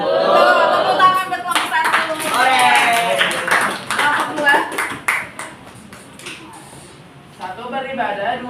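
A class claps hands in rounds of applause for student groups in a classroom lesson, the clapping dense and lively, with children's voices and a teacher talking mixed through it.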